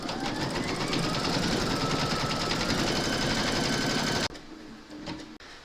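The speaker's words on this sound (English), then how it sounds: "Load your thread colour for the quilting of this area here into your machine, and then you're going to stitch round number 5." A sewing machine stitches a quilting round on a fabric coaster, running loud, close and steady with a rapid rhythmic chatter, then cutting off abruptly near the end, leaving a quiet room.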